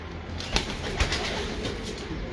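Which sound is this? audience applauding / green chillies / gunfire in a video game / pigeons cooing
pigeons cooing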